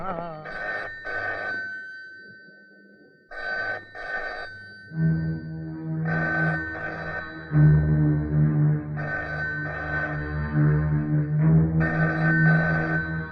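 A telephone rings in repeated double bursts, loud and close, with a low hum and voices talking underneath between and during the rings.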